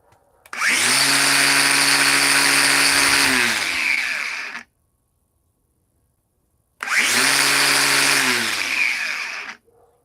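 A DeWalt cordless power tool spins up to a high, steady whine with strong harmonics, runs about four seconds, stops to silence, then runs again for a similar stretch, close and loud.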